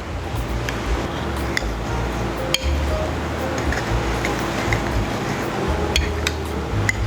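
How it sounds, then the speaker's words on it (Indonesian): Coffee stirred with palm sugar in a glass, giving faint scattered clinks of a spoon over a steady background hum, close and quiet, with no clear talk. "Ini kita akan aduk kopi dengan gula arennya"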